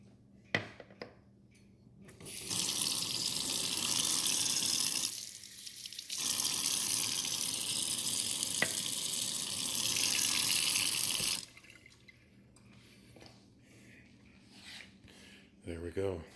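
Water pours steadily onto the soil of a potted stevia plant for about nine seconds, close and continuous, with quieter handling noises before and after.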